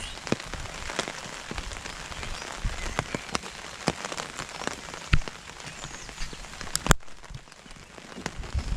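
Rain falling outdoors along a disused railway line, a steady close patter of drops striking surfaces with scattered sharper taps and crackles, continuous throughout and without voices.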